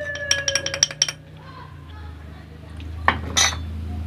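A metal spoon clinks rapidly against a glass while stirring an Egyptian cinnamon drink with milk, a quick run of bright taps, a pause, then a final louder clink and scrape.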